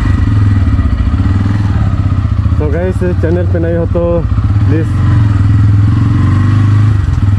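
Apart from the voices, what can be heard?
new motorcycle engine running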